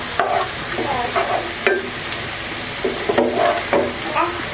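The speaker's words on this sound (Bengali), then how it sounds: "একটু ঘন ঘন নাড়তে হবে।" Onions frying in a pan for a katla fish curry, stirred with a spoon in several short scraping strokes over a steady loud sizzle, close up, with no talking.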